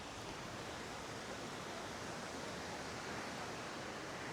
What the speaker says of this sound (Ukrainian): Вже водичка тече, журчить.